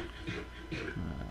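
Minecraft dogs make soft whimpering and panting noises in repeated short bursts, fairly close and moderate in volume, with no speech over them.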